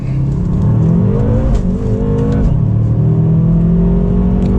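A 2011–2016 BMW M5 F10 accelerates hard in second gear, its engine note rising in a loud, continuous climbing drone that holds close and steady with no talk over it.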